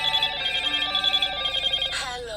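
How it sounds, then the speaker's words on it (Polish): A second mobile phone rings with an incoming call inside a 2016 Volkswagen Tiguan 2.0 TDI Highline, a loud steady electronic ringtone that pulses briefly before a short sliding tone near the end. "przychodzi do mnie na drugi telefon połączenie"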